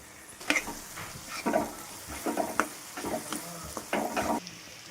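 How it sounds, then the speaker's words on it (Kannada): Pepper and cumin powder stirred into a sizzling paneer bhurji mixture in a pan, a spatula scraping in repeated, rhythmic strokes over a low frying hiss, close and clear, with no voices. "ಈ ಪಾಯಿಂಟಲ್ಲಿ ಸ್ವಲ್ಪ ಪೆಪ್ಪರ್ ಮತ್ತು ಜೀರಾ ಪೌಡರ್ ಮಿಕ್ಸ್ ಮಾಡ್ಕೊಳ್ಳೋಣ"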